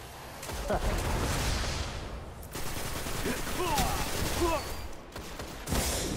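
Hand cannon fire in a Destiny Trials of Osiris match, with rapid shots and heavy weapon noise layered over game effects, while players talk over the action.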